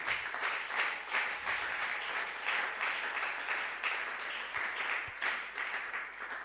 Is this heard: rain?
no